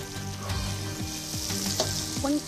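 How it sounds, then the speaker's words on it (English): Fish fries in a pan in a competition kitchen, a steady loud sizzle with scraping and clatter from nearby cooking, plus a few short voiced calls in the background. "I'm just waiting for the fish to finish frying"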